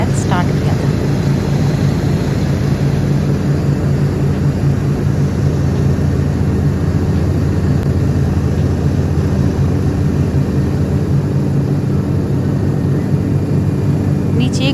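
Loud, steady, continuous engine and rotor roar of a helicopter flying over the Govindghat valley, heard from inside the cabin without a break.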